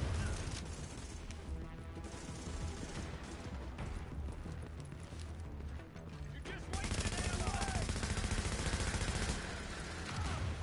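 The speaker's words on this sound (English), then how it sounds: "Another flashbang." Flashbang grenade detonation and gunfire in The Division during a firefight, with a sustained clatter of shots and a sharp louder burst partway through, dense and continuous, with faint voices underneath.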